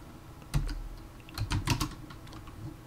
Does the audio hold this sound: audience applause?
no